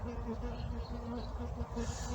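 Buckfast honey bees drone at an open hive during an inspection, a steady low buzz of many wings close by with no pause.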